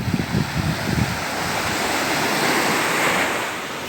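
Sea waves wash and roll in a steady broadband rush, with a few rougher surges at the start.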